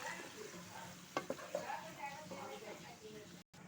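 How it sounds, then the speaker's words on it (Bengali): Green beans curry being stirred and sautéed in a pan, a soft continuous sizzle with a few sharp scraping knocks of the spoon against the pan, quiet and close. "এখন এগুলোকে আমি ভালোভাবে নেড়ে চেড়ে কষিয়ে নিব।"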